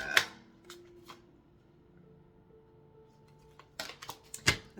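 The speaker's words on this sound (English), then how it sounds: "Let's give these a shuffle, please." Quiet riffling and snapping of a tarot card deck being shuffled, a few crisp bursts at the start and a flurry near the end, close and isolated.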